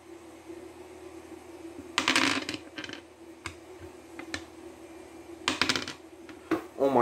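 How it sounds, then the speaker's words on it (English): Dice roll and clatter during a tabletop wargame session with plastic army men, several sharp rattling bursts across a hard surface with quiet pauses between them. "we might have some intense dice rolls trying to get the number"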